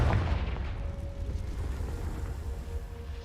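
A Confringo spell explosion in a magic video game lands as a heavy, booming blast that dies away into a low rumbling tail, with no voices over it.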